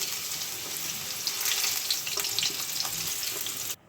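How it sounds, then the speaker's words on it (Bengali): Potatoes deep-frying in oil for a Bengali chicken curry, giving a steady, close, dense sizzle that keeps going for several seconds and then cuts off abruptly, with no voices. "তাহলে আমার আলুগুলো কিন্তু ভালোভাবে ফ্রাই হয়ে গেছে"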